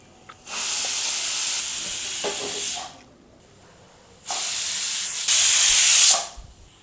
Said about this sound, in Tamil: நாலு விசில் வந்துருச்சு